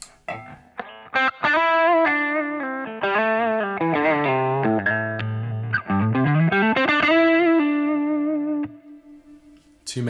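Electric guitar played through a Hughes & Kettner Grandmeister Deluxe 40 amp with reverb added, a distorted sustained melodic line with bends and slides, ringing tails closing the phrase.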